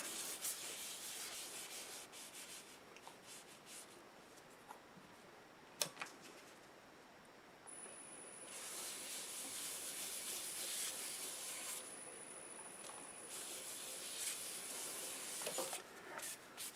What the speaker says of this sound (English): Just going to wipe it on with a rag.